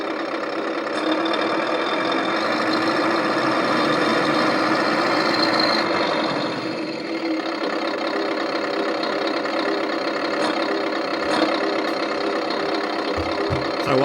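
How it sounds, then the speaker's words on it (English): RC Tamiya Scania combination truck with a sound unit producing a Scania V8 engine note, a loud, steady idling rumble that runs continuously with slight fluctuation and a few faint clicks near the end. "That is a real Scania V8 sound."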